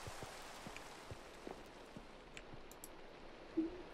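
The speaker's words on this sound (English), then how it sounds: "Oh, it starts raining." Light rain from the video game Minecraft patters softly with scattered, irregular drop taps over a faint background hiss, quiet and without voices.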